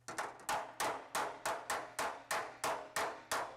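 A hammer planishes a damaged Austin-Healey 3000 shroud panel in a steady run of about a dozen sharp metallic taps, evenly spaced and close, each ringing briefly before the next, with no speech.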